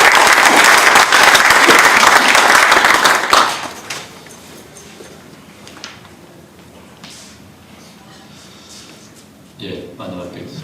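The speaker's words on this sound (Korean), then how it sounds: "박수로 환영해 주십시오" Loud, dense audience applause at a Korean panel discussion greets a professor coming to speak, filling the first three seconds before cutting off abruptly; quiet room noise follows, with light shuffling and a brief stir near the end.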